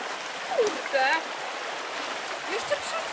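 Mountain stream on a hiking trail in the Gorce range flows with a steady rushing wash underneath, while people talk briefly over it.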